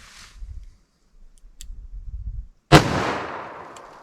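A single sharp, loud gunshot from a .44 Special firing a Buffalo Bore anti-personnel wadcutter cracks close by after quiet handling sounds, followed by a long fading echo.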